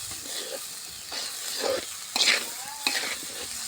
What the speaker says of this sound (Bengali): এখন এটা সুন্দর করে ভাজে নিব